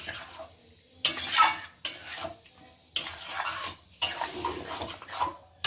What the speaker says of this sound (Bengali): আবার একটু ভালো করে কষিয়ে নিচ্ছি